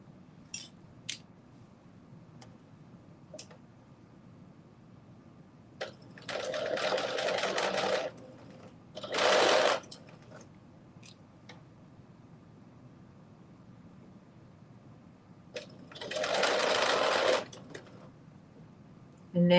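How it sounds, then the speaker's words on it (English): A sewing machine stitches fabric in three separate bursts, each a loud, close, rapid whir lasting a second or two, with quiet gaps and small handling clicks between them. "And now I'm just stitching straight across the top."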